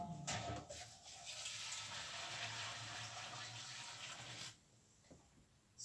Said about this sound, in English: we're going to pour our 5 litres of water on, which we hope will be sufficient to cover the plant material